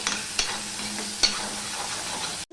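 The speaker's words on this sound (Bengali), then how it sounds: "রসুন আর পেঁয়াজটা ভালো করে লাল লাল করে ভেজে নেবো" Garlic and onion frying in a pan for a Bengali kochu shak (taro leaf) curry, a steady broadband sizzle with a couple of sharp stirring clicks, close and alone, ending in a brief drop to silence.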